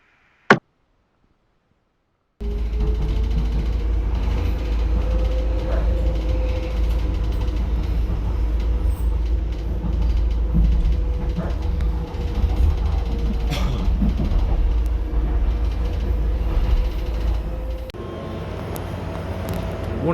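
A Docklands Light Railway train at Pudding Mill East station in London, a steady loud rumble with creaking and mechanical clatter running for most of the stretch after a brief quiet start.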